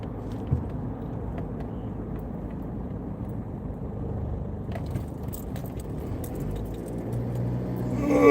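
A car engine idles in a garage, a low steady rumble running continuously at moderate level, with a faint metallic jangle and a few light clicks over it.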